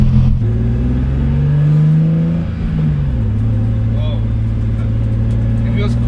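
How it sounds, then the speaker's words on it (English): A Nissan 350Z fitted with a new short shifter pulls away, its engine note climbing through a rev and dropping as a gear changes, then settling into a steady mid-pitched drone from inside the car. "So we're just gonna go for a drive, test out the short shifter."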